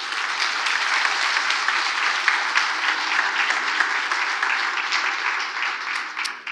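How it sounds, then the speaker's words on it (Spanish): A church congregation at a Sunday sermon gives sustained applause to the Lord, many hands clapping in a dense, continuous patter that stays strong for several seconds before easing at the close. "¿Cuántos le dan un aplauso al Señor?"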